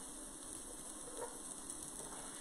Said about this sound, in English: Oh good, we got a nice sizzle.